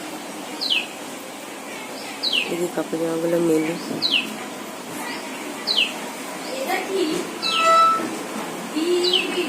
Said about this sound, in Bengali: আর একটু পাখি ডাকছে।